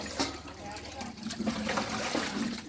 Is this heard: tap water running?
yes